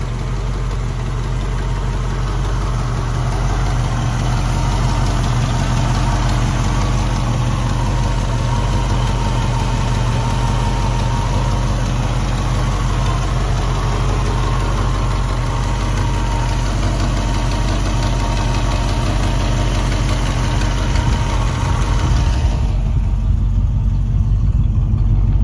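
A 1968 Ford Mustang convertible engine idles steadily and loudly with a low, even rumble and vibration throughout, dropping slightly in the last few seconds.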